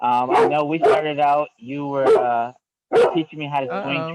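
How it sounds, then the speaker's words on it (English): A house dog barks and yips repeatedly in bursts from nearby, its voice mixed into ongoing conversation between two people. "That's just the dog."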